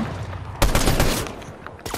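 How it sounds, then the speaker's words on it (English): Gunfire in the Fortnite video game, a sudden loud burst of rapid shots lasting about a second, then a brief pause and another burst, with no speech. "there's either someone shooting at me, or he's shooting at someone else"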